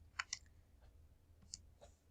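Faint, sparse plastic clicks of calculator keys being pressed, a few separate light taps spaced irregularly in an otherwise quiet room.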